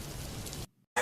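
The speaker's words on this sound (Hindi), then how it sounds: "उसके अगले दिन ही गांव में बारिश होती है" Steady rain pours for about two thirds of a second, broadband and close, then cuts to near silence before a loud burst of rain returns at the end, in a village setting.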